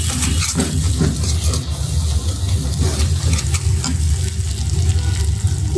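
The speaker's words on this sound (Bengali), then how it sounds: "মাছের জন্য মশলা কষিয়ে নিচ্ছি।" Spice paste for fish sautéing in a pan gives a steady, loud broadband sizzle and fry that runs unbroken, with scattered soft stirring scrapes and no voices.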